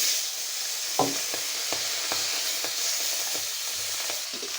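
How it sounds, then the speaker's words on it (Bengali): Fish fries in oil in a pan, sizzling steadily with a constant hiss, punctuated by occasional soft clinks and scrapes of a utensil. "বাকি মাছগুলো আমি ভেজে নেব।"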